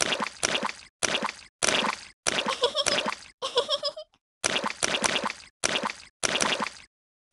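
Muddy puddle splashes from a Peppa Pig video game come in quick separate bursts of wet squishing and plopping with brief pauses between them, close up, with a bright giggly accent midway.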